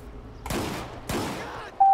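Two loud, close beanbag shotgun blasts fired by police in the video game GTA 5, each a sharp crack with a short decaying tail, about half a second apart, followed by a brief electronic tone.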